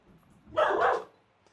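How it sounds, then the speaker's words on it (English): A dog gives a single loud, close bark lasting about half a second, with near-silence before and after. "that'll be the dog that you guys can hear now, having a good old bark"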